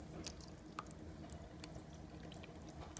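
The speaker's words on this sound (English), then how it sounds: "Just gonna pour the buttermilk all on there." Buttermilk poured over seared and braised oxtails in a home kitchen: a faint, soft liquid splash and trickle with a few scattered drips, quiet and close.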